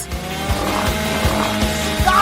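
A small saw cuts through a Twix chocolate bar, producing a steady, rhythmic rasping of repeated strokes with a mechanical hum underneath, fairly loud and close.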